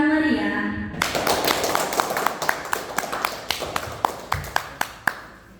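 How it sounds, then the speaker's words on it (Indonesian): A school OSIS election debate audience claps for the chairperson and vice-chair candidates, starting as a dense burst of applause that thins into scattered individual claps, after a brief voice at the start. "Beri tepuk tangan yang meriah."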